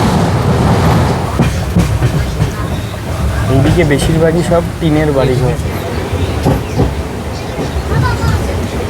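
Padatik Express passenger train running on the rails, a loud, steady rumble and rattle heard from on board, with a person talking over it throughout.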